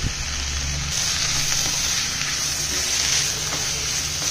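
Chopped tomatoes and grated coconut frying together in a pan for a vegetable curry, giving a steady close hissing sizzle with faint stirring ticks, no voices.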